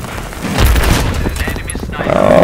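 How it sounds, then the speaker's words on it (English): Grenade explosion in a shooter video game, a deep boom rolling under the mix amid scattered gunfire, with a player's voice talking over it. "I just threw a grenade"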